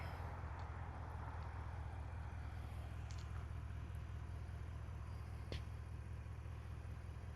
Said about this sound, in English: So that's a warm start. Has a nice deep rumble, but at idle, it sounds pretty good.